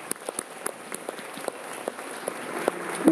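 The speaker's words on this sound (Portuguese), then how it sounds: "Podem aplaudir também." An audience at a concert applauding, a dense patter of clapping hands that keeps going at a moderate level without a break.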